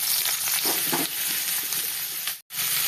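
Chopped onions drop into hot oil for a fish kosha, giving a steady, close sizzle with soft stirring scrapes throughout.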